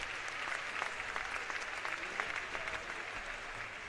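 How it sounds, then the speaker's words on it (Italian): Steady applause from a crowd at a youth volleyball award ceremony for an Under-17 men's final between Italy and Spain, a moderate, continuous wash of clapping heard at some distance with no voices. "Meritato applauso."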